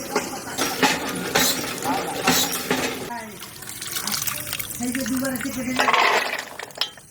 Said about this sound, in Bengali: অনেকদিন পর এই চাপা কল থেকে জল দিয়ে ধুয়ে রান্না বান্না চলছে আমাদের